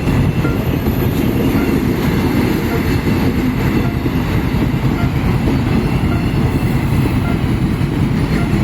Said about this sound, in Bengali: এইটা হচ্ছে থাইল্যান্ডের ট্রেন। এটা কোনো গুডস ট্রেন হবে